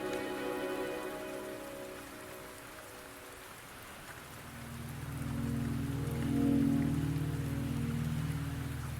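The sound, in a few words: rain falling in Wuthering Waves video game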